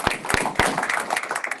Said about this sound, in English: Can we give Christine a round of applause?